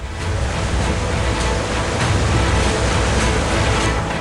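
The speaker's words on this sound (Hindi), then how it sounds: "कलकल बहने वाली गंगा का जरा रौद्र रूप देखिए, इसकी आवाज सुनिए, इसमें धार भी है और रफ्तार भी" The Ganges in spate at Rishikesh roars past as fast, rushing water, a loud broadband wash that swells and surges continuously with no speech on top.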